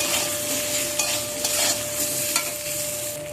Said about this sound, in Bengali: দিয়ে আলুটাকেও ভালো করে ভেজে নিয়েছি